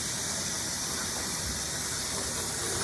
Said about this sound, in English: Fill the sink with water.